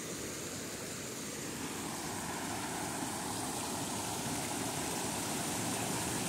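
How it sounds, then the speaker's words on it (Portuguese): Rainwater from heavy northeastern rains pours into a full reservoir (açude), making a steady, dense rushing roar with no break or speech. "Tá descendo a água aqui."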